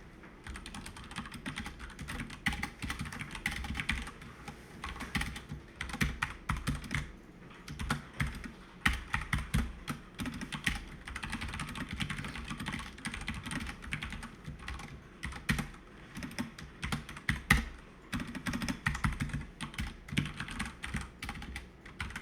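Java code being typed on a computer keyboard: fast, continuous key clatter with uneven bursts and short pauses, close and fairly quiet, no voices.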